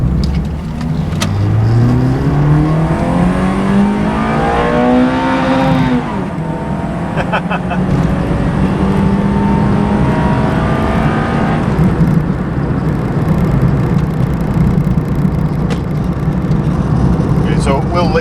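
A Honda car engine driven in manual mode revs hard, its pitch climbing steeply through the gears toward VTEC range, loud and close from inside the car, then settling to a steady drone, with a person talking over it.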